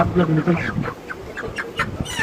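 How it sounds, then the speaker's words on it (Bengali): A chicken being weighed on a scale at a market stall clucks several times over the course of about two seconds, with short broken calls amid nearby voices and background shop noise. "এখন একটা মুরগি উঠে আসে"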